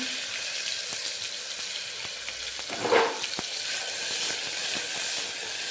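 Steady hiss of mustard seeds, cumin, tomato, chili and onion frying in hot oil, with a brief louder sizzle burst midway and a few light clinks.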